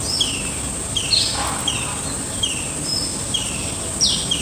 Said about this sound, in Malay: bestnya bunyi-bunyian burung je.